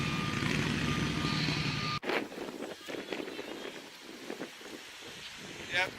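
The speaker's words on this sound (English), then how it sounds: "another 2 cars going past" Cars drive past outdoors, first as a steady engine rumble, then someone talks over wind noise while quieter traffic continues behind him.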